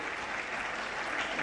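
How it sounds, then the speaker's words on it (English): Audience at a family medicine conference clapping, a brief, steady wash of applause throughout. "And I think we should give a round of applause for that."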